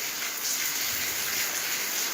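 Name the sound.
heavy rain falling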